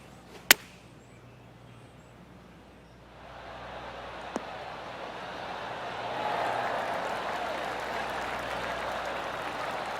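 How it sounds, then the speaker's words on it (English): Polite golf-clap applause from a golf video game crowd rises softly and holds as a steady patter after a couple of sharp clicks, with no talk. "Oh, golf clap."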